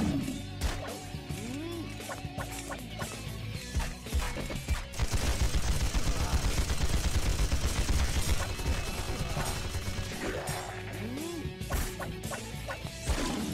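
Gunfire erupts in the Devil Summoner: Raidou Kuzunoha battle: a dense stretch of rapid crashing shots and impacts in the middle, with sparser hits and game sound effects before and after.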